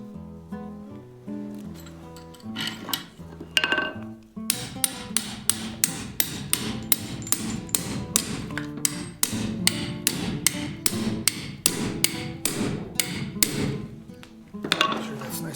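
Hammer blows doming a handmade metal bracelet, sharp close metallic strikes in a quick irregular rhythm after some softer taps and clinks at the start, with brief pauses between bursts.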